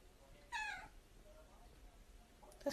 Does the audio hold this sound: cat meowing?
yes